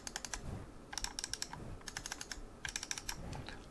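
Bursts of crisp, rapid clicking from the Kailh switches of an ASUS TUF Gaming M3 gaming mouse, close up, in several quick clusters separated by short pauses.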